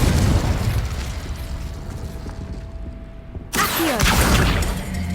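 The Confringo explosion spell in Hogwarts Legacy goes off as a loud, dense blast with a roaring rumble, followed by a sudden second burst near the end.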